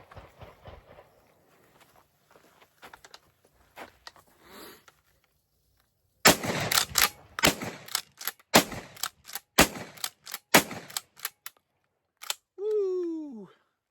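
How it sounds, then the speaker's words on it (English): An ATA Etro pump-action shotgun firing outdoors: a run of sharp, loud blasts with quick mechanical clacks between them, preceded by quieter handling noises, with a brief voice at the end. "The first shots from the ATA Etro."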